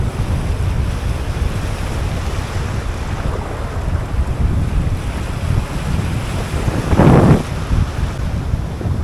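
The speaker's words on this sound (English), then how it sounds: "Getting slapped by these waves." Strong wind and choppy ocean waves off a reef in Jamaican waters during lure fishing from a boat, a steady roaring rush of wind noise with a louder wave slap near the end.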